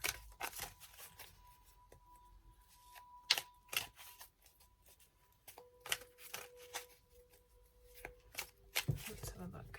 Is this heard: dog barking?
no